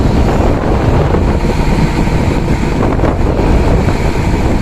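Strong wind on a fishing boat at sea buffets the microphone continuously, with a loud roaring rush and the wash of sea water beneath it.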